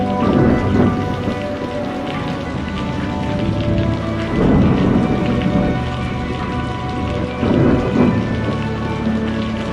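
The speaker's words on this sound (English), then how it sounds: "Instead of squid, we got a storm and it was beautiful." Heavy rain pours steadily during a thunderstorm over Ha Long Bay, with low rumbles of thunder swelling and fading several times beneath the dense, continuous hiss.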